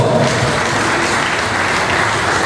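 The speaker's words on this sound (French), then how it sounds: "Sous vos applaudissements d'abord" Loud, dense audience applause at a ceremony honouring a woman, sustained clapping throughout with no talk over it.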